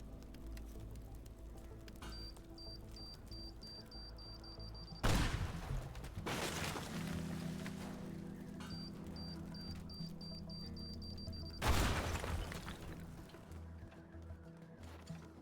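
Rocket launches and explosions in the video game Unepic: two sharp, loud bursts, each followed by a roaring blast that fades, set over a steady game ambience with a faint repeating beep.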